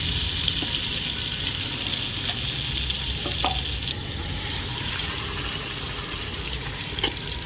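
Mixed vegetables sizzle and crackle in a pan over fried onions for veg biryani while a spoon stirs them, producing a continuous, close frying hiss with occasional scraping knocks.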